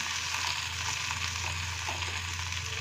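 Chopped vegetables with chilli and tomato fry in hot oil in a pan for bread upma, giving a steady close sizzle with faint stirring and no talk.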